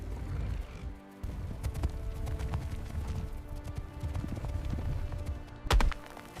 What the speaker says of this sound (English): Their footsteps create a deep, dull sound, like a drum beat echoing from the distant past.